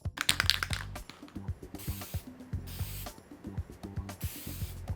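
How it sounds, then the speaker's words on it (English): Acrylic sealer hisses from a spray can onto a carved piece in short bursts, each spray preceded by the rattle of the mixing ball, close and loud with no talk. "after we got through spraying this with acrylic"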